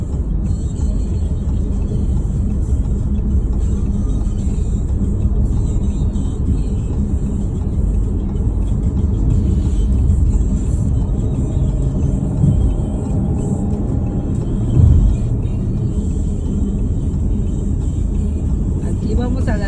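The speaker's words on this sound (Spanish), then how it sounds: "Es la hora del tráfico." Rush-hour road traffic in Las Vegas, Nevada forms a loud, continuous rumble of engines and tyres, with brief swells as vehicles pass, lasting throughout.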